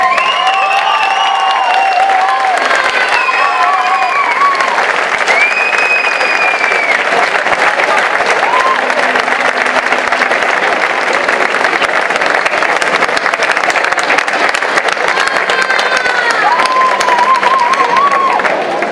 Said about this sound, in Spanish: Tenéis que aplaudir más fuerte